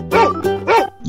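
A dog barks twice, loud and close, in two sharp separate woofs with nothing else around them.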